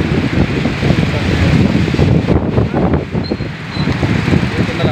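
Strong typhoon wind (Typhoon Paeng) gusting and roaring steadily against the microphone, a dense rumbling rush with no break throughout.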